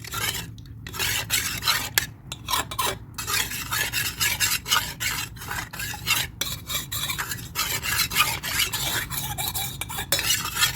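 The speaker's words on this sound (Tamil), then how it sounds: "ஸோ பால் போட்டு இதை மிக்ஸ் பண்ணிக்கோங்க" A spoon stirs a batter-like mixture with milk, breaking up lumps in a bowl, with steady scraping and rubbing strokes that repeat close up for about ten seconds without any talking.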